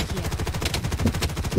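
Rapid automatic gunfire in the shooter game Blood Strike, a dense stream of sharp, evenly spaced shots that run nonstop through the moment, loud and close with no talk.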